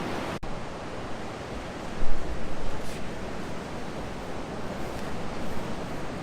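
Ocean surf washes in a continuous broadband rush, with a wave swelling louder around the middle and wind noise over the microphone.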